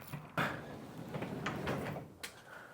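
A garage door in a Volkswagen collection rattles and clunks as it opens, with a couple of sharp knocks among a brief scraping rumble, heard fairly close.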